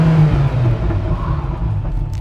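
A Ferrari F40 engine revving and accelerating from inside the car, a loud close low rumbling roar that holds steady and then eases slightly near the end.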